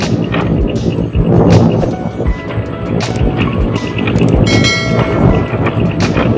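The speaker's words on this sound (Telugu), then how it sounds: "ట్రైన్ మరో గూడ్స్ ట్రైన్ వెళ్తుంది" A goods train passes close by, producing a loud, continuous rumble with metallic clanking and rattling wagons that swells and dips throughout, with faint voices underneath.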